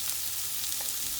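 Chopped scallions sizzling in a hot pan while pork fried rice is cooked, a steady bright hiss of frying oil with no voices.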